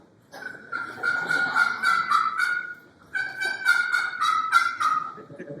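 Wild turkeys calling in two rapid bursts of loud, clear gobbling and yelping, separated by a short pause, with no talking.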